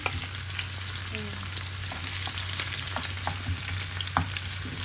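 Onions sizzle steadily in hot oil for a home-cooked tuna curry dinner, a dense, close frying hiss with occasional light pops and clicks and no talking.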